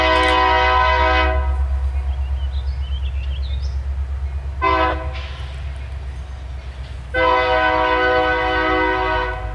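A Union Pacific freight train near Earlville rumbles past with a continuous low roar, and its horn sounds three times: a long blast, a short one and another long one, all loud and close.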